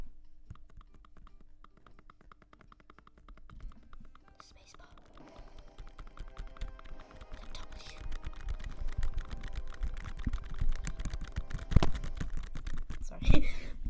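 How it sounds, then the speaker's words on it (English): Faint, irregular clicking of a computer mouse, soft and close, with some light tapping and breathy whispering in the background. "Listen to the clicking of the mouse."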